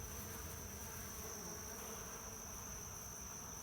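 Honeybees buzzing around a hive being robbed in early July in Ohio: a dense, continuous, steady drone of many wings with a constant high whine, close and unbroken, with no voices.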